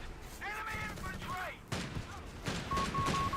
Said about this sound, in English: Panzer, you're getting gunned down by the Humber, though